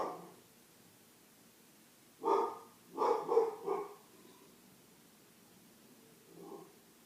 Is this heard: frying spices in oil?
no